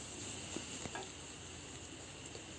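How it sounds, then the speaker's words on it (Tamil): Sliced onions fry and are stirred in a pan for a poori potato masala. A faint, even sizzle runs throughout, with a few soft clicks from the stirring utensil. "வெங்காயம் ஒரு 1 நிமிஷம் அளவுக்கு நல்லா வதக்கிடலாம்."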